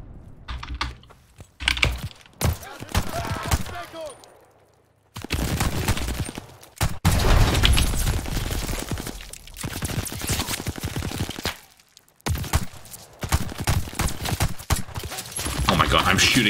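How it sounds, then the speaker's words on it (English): Repeated rapid gunfire bursts while shooting an enemy in Call of Duty Vanguard, broken by short silences and mixed with busy keyboard clatter. "I'm shooting this guy and he's not dying."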